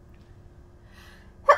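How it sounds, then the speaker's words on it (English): A single short sneeze bursts out near the end, sharp and fairly loud after a quiet stretch, with a cough-like quality. "Ooh, I got a sneeze. Hold on."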